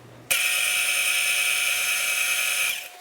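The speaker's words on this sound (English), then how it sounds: "I like to go ahead and just give it a little bit of mix inside my mixer" An electric stand mixer whirs steadily while mixing pizza dough with yeast, a close high-pitched motor whine that switches on sharply, holds for about two and a half seconds, then winds down.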